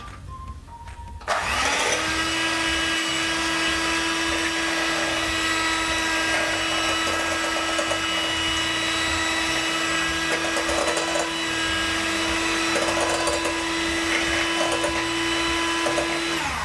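An electric hand mixer whirs steadily as it beats lemon muffin batter, starting abruptly after a short quiet moment and then running loud and even with a constant motor whine.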